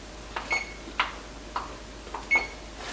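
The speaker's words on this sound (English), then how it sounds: "So I set this timer for 10" A kitchen timer being set while flautas and rice cook, giving short sharp beeps at irregular intervals, about five chirps over a few seconds, fairly quiet and close with no talk.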